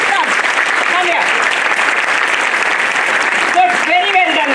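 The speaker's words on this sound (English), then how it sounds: "give them a huge round of applause" Applause for the anchors of a kindergarten dance class event, a steady wash of clapping with high, excited voices rising over it near the end.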